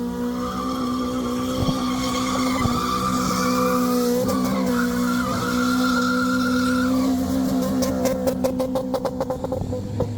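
A race car with a twin-cam engine howls loud and close, its note staying steady and then rising and falling as it works through the gears. It hits the rev limiter in rapid stutters near the end, with tyre noise running underneath.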